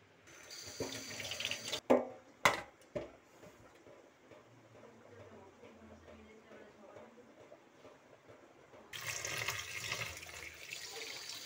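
Tap water runs and splashes as chopped red leafy greens and eggplant are rinsed in a sink, with a few sharp clunks early on and a louder gush of flowing water near the end.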